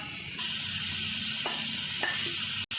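Sliced onions sauté for prawn biryani with green chilies, bay leaf and salt, giving a close, continuous, even sizzle with a few faint stirring scrapes and no voices.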